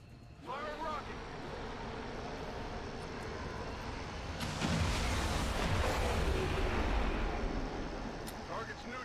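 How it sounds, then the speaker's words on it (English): A rocket launch in the XCOM 2 video game, a loud roaring blast that surges in around the midpoint and sustains with heavy low rumble, preceded by a quieter stretch of game ambience and a brief voice. "Fire rocket!"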